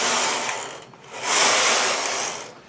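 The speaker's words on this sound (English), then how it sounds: "thread the machine and knit 2 rows" A hand-operated knitting machine carriage pushed back and forth across the needle bed, loud close whirring mechanical sweeps with a short pause between two rows, no voices.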